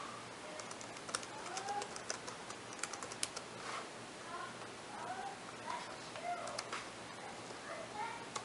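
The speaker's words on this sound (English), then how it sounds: "go ahead and type your new one in" A router password is typed on a computer keyboard as a scatter of quiet, irregular key clicks, with soft background birdsong and a low hum throughout.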